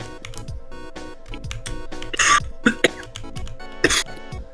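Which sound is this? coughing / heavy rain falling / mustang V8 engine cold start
coughing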